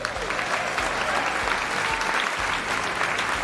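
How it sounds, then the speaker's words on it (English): Audience applause for talent show acts at a finale, a steady sustained wash of clapping from a full crowd, loud and even throughout with no speech over it. "Let's give them all one more round of applause"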